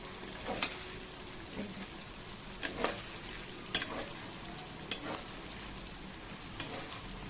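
Chopped egg frying in a pan, a steady soft sizzle with scattered scrapes and taps of a spatula stirring now and then, close and fairly quiet.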